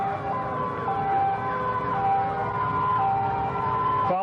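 Riverdale Fire Department fire engines pass in a 1984 Dolton parade, their sirens wailing loudly in rising and falling sweeps over a rumble of engines, ending abruptly.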